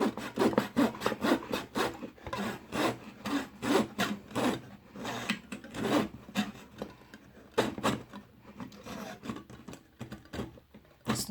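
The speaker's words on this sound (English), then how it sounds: "So now that you've cut down your piece of doweling" A wooden dowel is cut with a hand saw in quick, rhythmic rasping strokes, close and moderately loud, continuing steadily with no voices.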